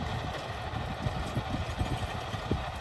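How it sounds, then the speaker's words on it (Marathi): A John Deere 5210 tractor works a rotavator, giving a steady, moderately loud low engine rumble with uneven churning thumps from the blades throughout, heard without any voices. "मागच्या साईडने जर पाहिलं ना तर फक्त रोटावेटरचा आवाज येतोय आपल्याला"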